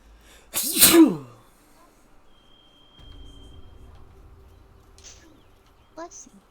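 One sharp, loud, close human sneeze bursts out near the start, followed by a quiet low hum and faint short chirps, with no speech.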